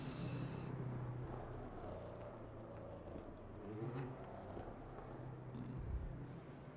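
BMW M8 race car engine in the Le Mans Ultimate racing game, a steady low droning hum held faint and even throughout, with a short high tone at the very start.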